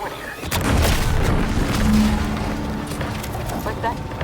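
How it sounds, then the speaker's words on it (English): An explosion in The Outer Worlds 2 booms in a heavy burst, then rolls into a long low rumble that slowly fades, with voices speaking over it. "What's that? An explosion?"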